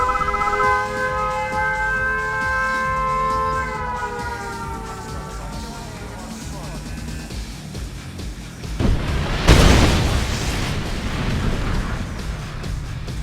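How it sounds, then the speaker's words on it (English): A nuclear missile explosion in the Red Alert 2 strategy game erupts as a loud, broad burst near the ninth second and rumbles on, after a falling siren-like warning tone fades over game sounds. "Warning, nuclear missile launched"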